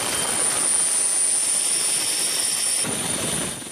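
Military rescue helicopters working in a flood disaster zone give off a loud, steady turbine whine with a broad rushing roar that stays constant for several seconds, then eases off near the end. There is no talking.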